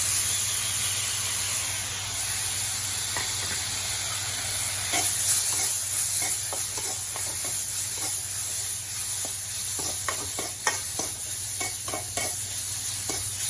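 Apple pulp cooks in a pan with suji for baby sheera, a continuous close sizzle and hiss with repeated soft scraping and stirring clicks throughout, and no voices.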